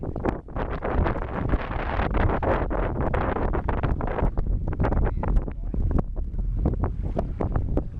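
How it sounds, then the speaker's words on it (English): Strong wind buffets the microphone outdoors at a carp fishing lake in France, a continuous loud rumbling roar with repeated gusty thumps throughout. "This wind's kicked it up a bit, hasn't it?"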